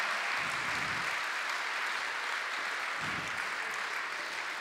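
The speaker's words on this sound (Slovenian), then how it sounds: "En aplavz dajmo za vražje muzikante." An audience at a Slovenian folk music radio show applauds a band coming on stage, with steady, dense clapping filling the hall at moderate volume throughout.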